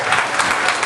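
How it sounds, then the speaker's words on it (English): An audience at a magic show in Courtenay breaks into loud, dense applause, a brief burst of many hands clapping together close by. "Give him a big round of applause,"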